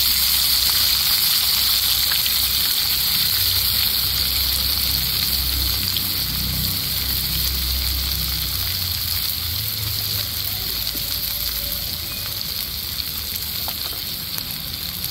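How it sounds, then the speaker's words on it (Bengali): Five medium chopped onions hit hot oil for a Bengali village-style stalk curry, giving a steady, loud, close sizzle and bubbling hiss that runs unbroken throughout, with no talking. "পেঁয়াজটা দিয়ে দিব তেলের মধ্যে।"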